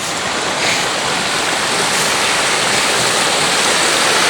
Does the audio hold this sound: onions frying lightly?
no